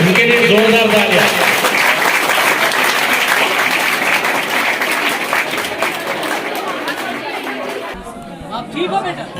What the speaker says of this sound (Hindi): आज के दो एंकर उनके लिए जोरदार तालियां